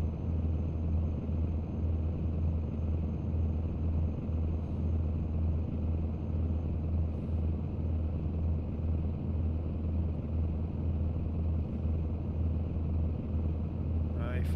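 A truck engine in American Truck Simulator holds a steady, deep rumbling drone while driving, constant in loudness throughout with no noticeable shifts.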